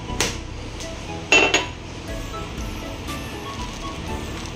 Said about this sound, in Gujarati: આમ ઠોકીને તમારે ફોડવું હોય તો એ ફૂટી શકે છે.